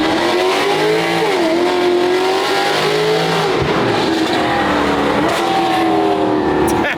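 A $250k Mercedes keeps driving with its engine running steadily and loudly, the revs rising and falling throughout, while a person talks over it.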